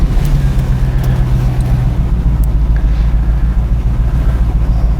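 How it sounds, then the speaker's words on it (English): A 2004 Infiniti FX45 engine with a high idle runs steadily nearby, a continuous low rumble with a faint tonal hum, loud and uninterrupted, with no talking. "We're going to start the car up."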